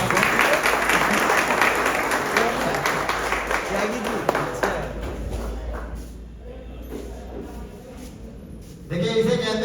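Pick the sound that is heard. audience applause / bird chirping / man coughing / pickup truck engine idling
audience applause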